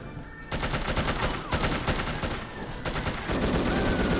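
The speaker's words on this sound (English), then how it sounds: "Reloading my gun, you're just shooting me." Sustained gunfire from the No One Lives Forever video game, dense rapid shots filling the whole stretch with a few sharp bursts starting new volleys, loud and close.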